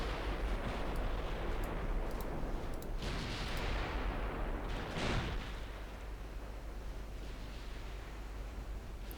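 Naval guns firing HE shells in the warship game Ultimate Admiral Dreadnoughts: heavy booming salvos roll over a loud rumbling background, with a sharp blast near the middle before the din eases slightly.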